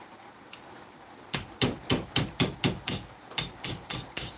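A tiny hammer taps metal with about a dozen sharp, close strikes, one stray tap first, then a steady series of evenly spaced hits.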